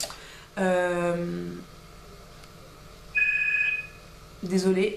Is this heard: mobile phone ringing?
yes